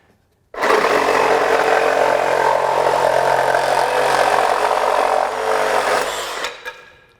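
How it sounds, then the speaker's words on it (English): A Craftsman V20 brushless reciprocating saw, model CMCS351B, fitted with an unmarked blade, cuts through an ordinary 2x10 board. The loud, steady buzzing saw noise runs for about six seconds, dips briefly near the end, then stops, with no talking. "I'm going to go through a normal 2x10"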